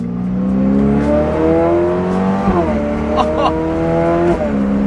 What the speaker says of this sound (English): 2022 F8, twin turbo V8, last of that engine.